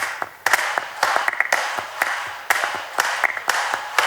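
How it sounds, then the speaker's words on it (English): Sampled handclaps hit in a rhythmic pattern within a music track's break, some dry and crisp, others washed in longer reverb for a roomy stadium feel, with tapping percussion around them. "clap samples in the break, and some additional claps with more reverb, like a bit of stadium feeling"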